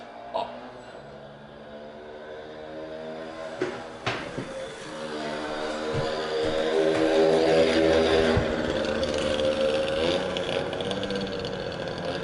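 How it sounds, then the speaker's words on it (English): An engine passes close by, rising from a steady idle-like hum to a louder, sustained drone with a few sharp knocks early on. "It was just like a moped or whatever."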